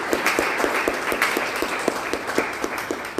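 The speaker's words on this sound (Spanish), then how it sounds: "un fuerte aplauso aquí para nuestra conferencista." A museum lecture audience gives steady, moderate applause for the speaker, a continuous wash of clapping with some individual claps audible.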